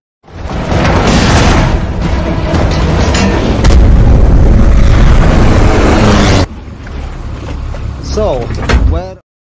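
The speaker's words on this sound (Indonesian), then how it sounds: "lalu ia pun langsung meledakkan tempat itu untuk membunuh Bond" A building blown up in the James Bond film No Time to Die: a loud, sustained rumbling blast roar that cuts off abruptly, followed by quieter crackling debris and rising whistling tones, with speech heard over it.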